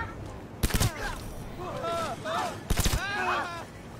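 Gunfire in the video game Cyberpunk 2077 comes as two short bursts of sharp shots, about two seconds apart, with a player talking over the game sounds.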